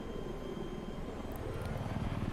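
A helicopter in the video game Battlefield 3 hovers with a continuous, dense rotor and engine drone, steady and close throughout with no speech.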